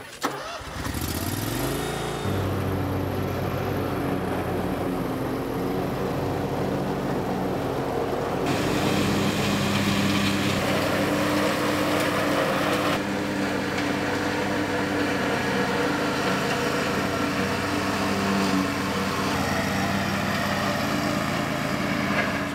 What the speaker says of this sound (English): if you can actually bush hog these trails or take your lawnmower, it works great